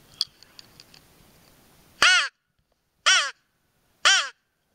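A crow gives three loud, harsh caws spaced about a second apart in a quiet mountain setting in the Big Horns, with faint softer bird notes before them.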